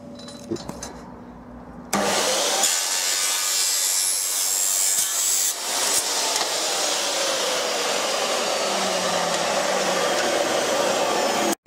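A wooden fence post being sawn for a kit fence, the cut trimming 5 by 5 cm, starts after a quiet moment and rasps on loudly and steadily close by for about ten seconds, with no talk.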